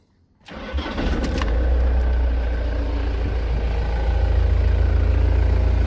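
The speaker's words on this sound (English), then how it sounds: "Let me start it up." A 2006 Ford Transit recovery truck engine cranks and fires after a brief silence, then settles into a loud, steady idle close by, with a slight rise in pitch toward the end.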